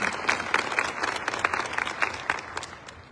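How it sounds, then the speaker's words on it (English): Conference audience applauding at a pediatric health care conference's opening session, a steady wash of many hands clapping at moderate distance that gradually thins toward the end. "joining me in a round of applause for them"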